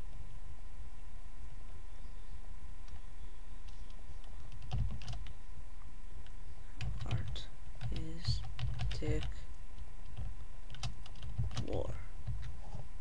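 Text is typed on a computer keyboard in scattered short bursts of clicky keystrokes, moderately close, over a steady background hum.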